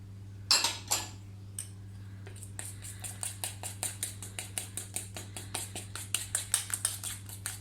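A fork beats cake batter mixed with melted butter in a small ramekin, making quick, rhythmic clinks and taps against the dish, light and close, over a low steady hum, with a couple of louder knocks at the start.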